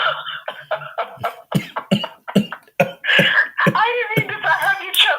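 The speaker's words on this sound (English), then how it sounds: "I'm trying so hard not to laugh, but I'm gonna cough here, which is terrible" A person coughs repeatedly during a podcast conversation, with short bursts of coughing broken by laughter and talk, close and fairly loud.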